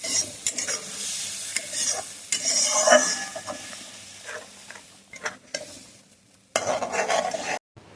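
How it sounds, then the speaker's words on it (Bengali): Onion and ground spice paste are stir-fried in a pan. A spatula scrapes and clatters in uneven bursts over a soft sizzle, with pauses and a louder run of frying near the end and no talking. "এবার এই যে বাটা মশলাটা দিয়ে দিলাম ভালোভাবে এবার কষিয়ে নেবো"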